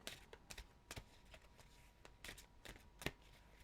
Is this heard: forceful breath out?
no